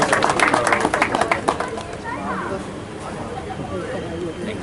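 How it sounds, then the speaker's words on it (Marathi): Crowd at a millet festival claps for the district collector, a burst of applause in the first seconds that fades into general chatter and murmuring. "आपण टाळ्या वाजून या ठिकाणी सरांचे स्वागत करू"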